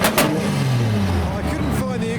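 A Nissan 350Z drift car rolls back to its paddock at a modified car show, its engine a steady low drone with a falling pitch, close by, while people talk over it.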